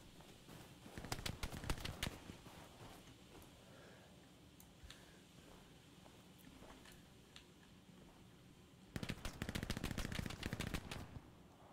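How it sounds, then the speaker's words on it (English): Machine gun fire in the video game Hell Let Loose, two loud rapid bursts early and late with scattered distant single shots between, over faint outdoor ambience. "I'm being still being shot at."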